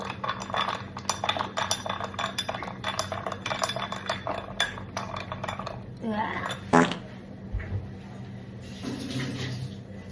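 Spoon stirring coffee with milk in a cup, a run of small rapid clinks and scrapes against the cup, then a louder clink and a softer liquid swirl toward the end, all close by.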